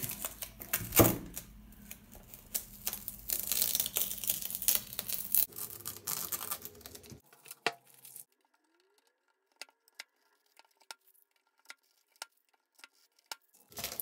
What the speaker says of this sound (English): let's take these tapes off